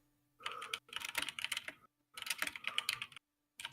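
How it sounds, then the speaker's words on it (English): Someone types on a computer keyboard, two quick bursts of close, crisp key clicks separated by a short pause, with no voices. "I think he's typing."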